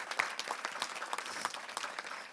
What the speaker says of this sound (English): today I ask that you give them all a round of applause for their heroic efforts